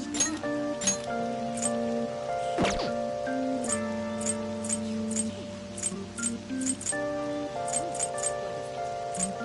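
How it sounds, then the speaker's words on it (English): Rain in the video game Persona 5 Royal, steady patter and scattered drip clicks over sustained tonal game music with a sweeping tone partway through, moderately loud. "It's rained so much."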